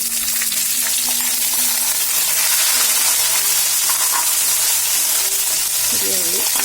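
Small onions frying in a pan for Kerala coconut chicken thoran, a steady close hiss of sizzling oil running throughout with faint stirring scrapes near the end.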